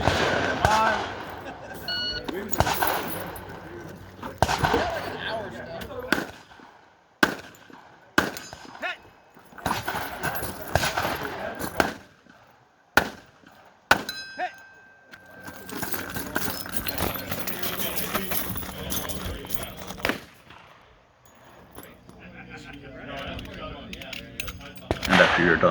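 M1 Garand rifle shots at steel targets during a shooting match, sharp separate reports with quiet gaps between them, mixed with movement and talk nearby.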